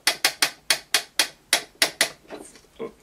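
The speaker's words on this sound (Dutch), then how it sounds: "Een kind mag hier aan draaien. Dan gaat de trommel rond en dan wordt het helemaal goed gewassen." A cranked drum on a Chinese toy washing machine turns with a run of about ten sharp, evenly spaced knocks or clacks, loud and close, then slows into a few weaker, irregular thuds.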